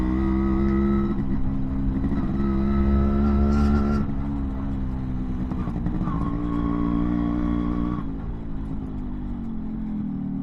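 Heavy road traffic around a Yamaha RX100 on a daytime ride near Kanchanagiri in Ranipet district, with the bike's steady engine drone up close and other motor vehicles rumbling and revving alongside, loud and continuous throughout.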